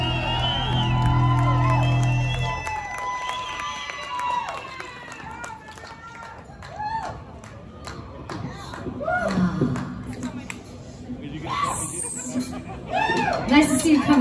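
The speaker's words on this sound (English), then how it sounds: "So please, another round of applause for on the drums, Miss Clementine!" Concert crowd at a tribute show in a casino venue claps and whoops after a drummer is introduced. Scattered cheers and whistles rise over steady applause, with amplified band sound fading out at the start.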